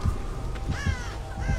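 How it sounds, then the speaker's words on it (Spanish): Crows in the horror game Dead by Daylight give several harsh caws in quick succession, close and fairly loud over a low ambient drone. "Ahí tiene listos los pájaros."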